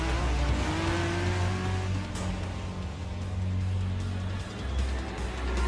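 Engine of a Honda NSX Group 4 race car in the Gran Turismo Sport video game, a loud continuous mechanical drone with shifting pitch and a brief whining note, heard without talk.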